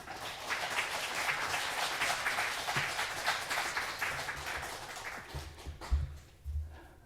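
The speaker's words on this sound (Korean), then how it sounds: "나오실 때 우리 박수로 좀 환영해 주시면 좋겠습니다." An audience at a church anniversary seminar applauds to welcome a speaker, steady moderate clapping from many hands that fades out near the end, with a few low thumps.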